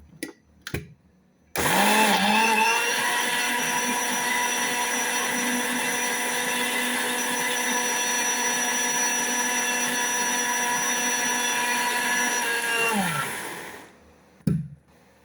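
A mixer grinder blends apple juice, starting after a couple of faint clicks into a loud, steady, high whirring drone that runs unbroken for about twelve seconds before winding down, followed by a brief clunk.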